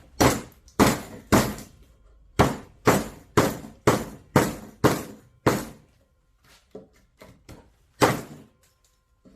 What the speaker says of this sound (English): Let's see if I can just cut a piece of wood out.